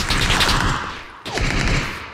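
Rapid automatic gunfire from the PUBG video game rattles out in two loud, dense bursts with a short gap between them.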